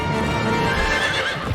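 Horses neigh and whinny repeatedly in the LEGO Lord of the Rings video game, a loud, continuous stretch of game horse calls with hoof clip-clop mixed underneath.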